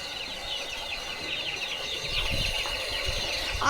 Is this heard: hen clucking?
yes